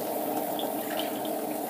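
Water runs steadily onto clay on a spinning pottery wheel, a soft continuous splashing trickle, fairly quiet and alone without voices.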